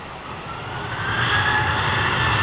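An Ilyushin IL-76 cargo jet with uprated PS90 engines roars at an airport, its steady engine rumble and high whine swelling gradually louder as it passes at a moderate distance.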